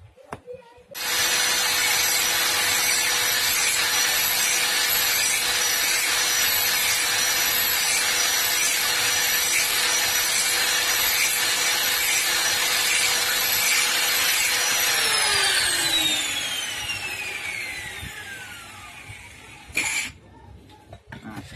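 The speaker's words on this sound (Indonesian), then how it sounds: "Oke, kita gerinda dulu." Angle grinder grinding a metal part during a water pump repair on a Mercedes-Benz diesel truck engine, a loud continuous high-pitched whine that runs steadily for about fourteen seconds, then winds down with a falling pitch and stops.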